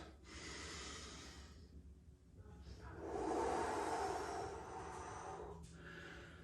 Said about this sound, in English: breathing in real big and deep through my nose